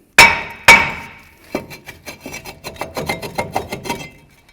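A brake rotor on a 2015-20 GMC Yukon is knocked off the hub: two sharp, loud hammer blows, then a rapid series of lighter metallic taps that fade out.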